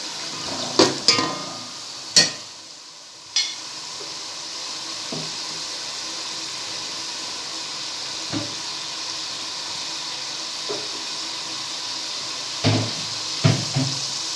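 Spices frying and being stirred in a pot for matar pulao, a steady low sizzle with a few sharp scraping and clinking stir hits near the start and end, no voices.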